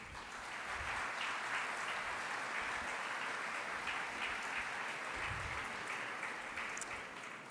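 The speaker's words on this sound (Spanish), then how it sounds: "Esto merece un aplauso." Sustained audience applause at a university panel talk on Salvadoran diplomacy in San Miguel, El Salvador; a steady, dense wash of many hands clapping, even in level throughout and heard alone without voices.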